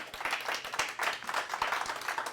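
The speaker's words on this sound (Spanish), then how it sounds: "Denle un fuerte aplauso al Señor, amado hermano." A church congregation applauds during a sermon, a steady wash of many hands clapping at moderate to faint volume, with a few sharper individual claps.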